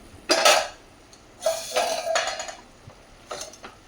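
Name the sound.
cooking and stirring cabbage curry in a wok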